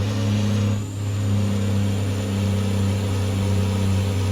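Cat C-12 truck engine in American Truck Simulator labors on a climb in Canada, a loud, steady low drone with a brief dip near the start and no talking over it.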